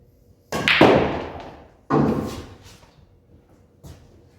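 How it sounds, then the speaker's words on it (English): Pool follow shot: a sharp cue strike and balls clacking, followed by a second knock as the cue ball hits the rail, then a fainter tap near the end, in a quiet room. "shoot a follow shot, cue ball into the rail and bring it over here"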